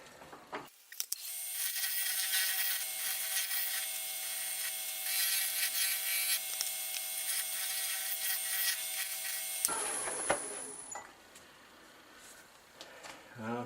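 Lathe tool hollowing a gnarly wooden burl, a sustained close scraping and rubbing with a faint whine, stopping abruptly before quieter handling noises.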